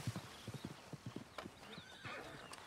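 Horse hooves clip-clop at a steady trot in Red Dead Redemption 2, several bright close footfalls, followed by a rising neigh and whinny near the end.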